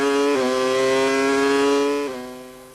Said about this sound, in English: Listen to that Mecha Renault engine.